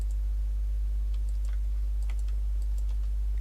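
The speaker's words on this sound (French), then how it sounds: "Si vous entendez mon clavier, désolé." Computer keyboard typing during a French game tutorial session, faint scattered key clicks over a steady low electrical hum, with no talking.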